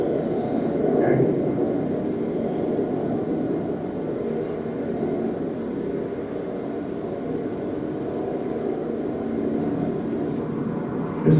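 Airplane engine roaring with combustion and propulsion, a steady broad rumbling drone heard from a distance that holds evenly throughout with no voices over it.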